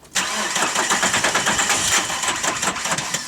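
Car engine cranking hard on a cold start with a struggling starter and weakening battery, a rapid rhythmic chugging that runs for about three seconds without catching, close and loud.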